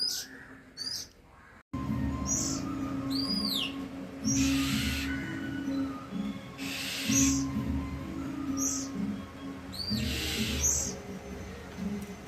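A mother bird calls repeatedly over steady background hum, short rising-falling notes recurring every couple of seconds, fairly close and clear.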